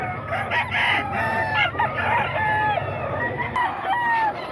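Roosters and chickens at the Bocaue tiangge market crow repeatedly, several overlapping calls rising over clucking and steady crowd background noise.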